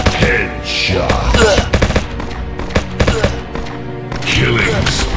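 Rapid automatic gunfire and single shots from the mobile zombie shooter game Dead Warfare, dense loud bursts with brief pauses, plus game effects and voice callouts mixed in.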